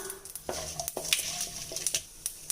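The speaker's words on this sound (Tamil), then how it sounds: "கடுகு உளுந்து பொரிஞ்சாச்சு." Mustard seeds and urad dal spluttering in hot oil for tempering: quick irregular pops and crackles over a soft sizzle, close and fairly quiet, with no talking.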